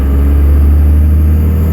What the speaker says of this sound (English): It doesn't sound exactly like a knock, more of a thump.